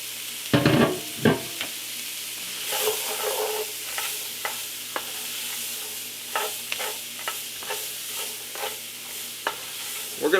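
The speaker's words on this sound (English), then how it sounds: "We're going to cook this for about 4 minutes. We're going to stir it frequently." Green peppers, celery and onion fry in a pan with a steady broadband sizzle while a utensil scrapes and stirs in repeated sharp strokes, the loudest at the very start and end, with no talking.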